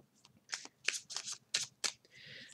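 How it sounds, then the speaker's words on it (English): Playing cards are shuffled by hand in quick, crisp bursts, about seven short riffling rustles close to the ear, ending in a slightly longer sweep, with no talking. "We have three cards. I'm going to shuffle again. I like shuffling."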